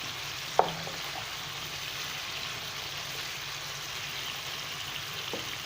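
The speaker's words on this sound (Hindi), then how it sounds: "अब इनको दूसरी साइड से भी हम अच्छी तरह से फ्राई कर लेंगे।" Chicken wings fry in hot oil, a steady, soft, even sizzle with a couple of brief clinks, close by and with no talking.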